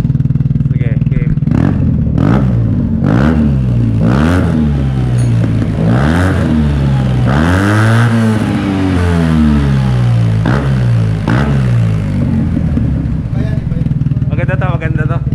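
A Yamaha TMAX scooter fitted with an upgraded aftermarket exhaust pipe revs loudly and repeatedly up close, rising and falling in bursts, while people talk over it the whole time.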